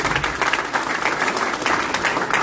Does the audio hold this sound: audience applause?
yes